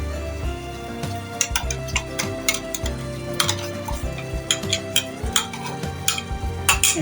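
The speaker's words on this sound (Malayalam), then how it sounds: "ചേർത്ത് ഇളക്കുന്നു, നല്ലപോലെ യോജിപ്പിച്ച് വയ്ക്കാം." Ground coconut and fennel get stirred into a sizzling prawn curry in a pan, with repeated scraping strokes and clinks of the spoon against the metal over a constant fry.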